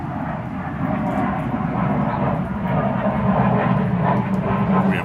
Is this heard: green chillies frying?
no